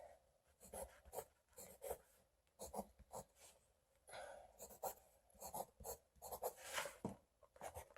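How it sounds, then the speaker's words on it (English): Pencil writing letters on paper, with a series of short scratchy strokes in quick bursts separated by brief pauses. The strokes are close and clear, and no one speaks. "Now let's write 5 times."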